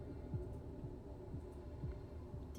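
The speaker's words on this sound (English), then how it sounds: "Am I hearing your heartbeat right now?" A low heartbeat thumps at a regular pace in the video game Vampire The Masquerade Swan Song, soft rhythmic pulses about every half second over a quiet humming game background.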